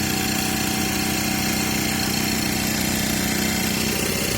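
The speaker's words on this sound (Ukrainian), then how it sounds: "Послухайте як працює мотор." A Ford Transit passenger van engine idles steadily close by, an even low rumble with a constant rhythmic chug, no voices.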